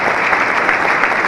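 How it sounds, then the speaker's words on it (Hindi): An audience claps steadily throughout a short, loud stretch of crowd applause at a business plan presentation. "क्या इसके लिए तालियां नहीं होनी चाहिए?"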